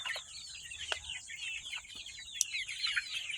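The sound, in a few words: cockerels clucking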